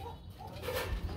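Soft, low pigeon coos rise at a busy pigeon market, faint and somewhat distant, repeating as a murmuring background without any talk.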